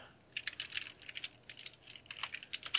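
Someone types on a computer keyboard, quiet close clicks in quick uneven bursts separated by brief pauses, with no talking.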